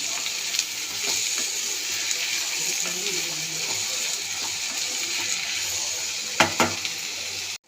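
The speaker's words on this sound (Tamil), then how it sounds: "தக்காளி போட்டு நல்லா வதக்கணும்" Tomatoes sauté in a hot pan for a Tamil dinner dish served with chapati or poori, giving a steady close sizzle with occasional stirring scrapes and a couple of sharper knocks near the end.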